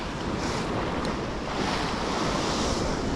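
Ocean waves breaking on the shore at a spot used for shore jigging, heard as a loud, continuous wash of surf mixed with heavy wind buffeting the microphone, with no one speaking.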